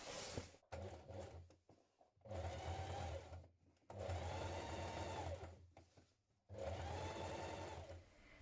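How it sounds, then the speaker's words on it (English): A sewing machine runs a 2 mm top stitch down the front seam of a cuff top in three or four long, loud, close bursts, broken by brief pauses and handling clicks. "we're going to do a 2mm top stitch down the front here"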